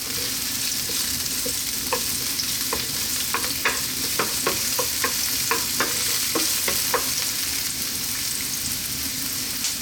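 Onion and garlic fry in a pan with a constant close hiss, while a utensil stirs and taps against the pan in a quick run of clicks midway. No one speaks.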